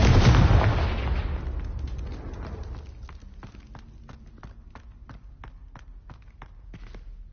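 A Confringo blasting spell from a PlayStation 4 video game explodes in one loud, booming burst that slowly fades, followed by a faint series of quick regular footsteps or taps.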